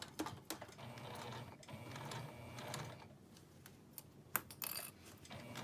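A sewing machine hand-cranked through thick leather on a double zip case, giving irregular mechanical clacks and ticks, some sharp and close, separated by quieter whirring stretches, with no speech.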